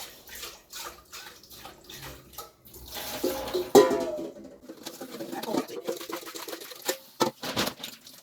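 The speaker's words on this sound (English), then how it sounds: "I just pour it like that inside the" Cooking water from boiling periwinkles is poured into a kitchen sink, a gurgling splash of running water that swells midway amid clatter and other household sounds, with speech faintly in the background.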